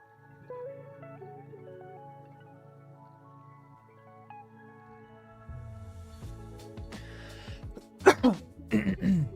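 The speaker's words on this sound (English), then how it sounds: "still fighting the cough" Quiet tonal background, then a few close throat clears and a short cough bursting out near the end.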